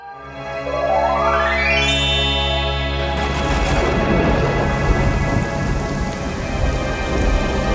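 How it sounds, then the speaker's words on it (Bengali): Magical rain and thunder in an animated cartoon: a shimmering tone sweeps upward, then a loud, steady downpour with low thunder rumble takes over and continues to the end. "জল বর্ষিত হও, মানুষের তেষ্টা মেটাও।"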